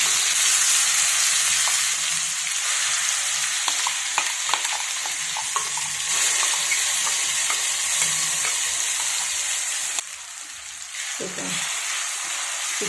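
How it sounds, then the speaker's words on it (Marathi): Raw mango chutney stirred and sautéed in hot oil after mustard seeds and cumin, a steady loud sizzle and fry with scattered spoon scrapes and taps, easing briefly near the end. "चटणी अशी छान परतून घ्यायची तेलामध्ये"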